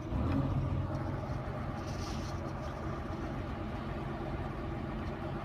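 Hyundai 260LC excavator engine starting up and then idling, a low steady diesel rumble heard from close by, continuous and even throughout with no speech.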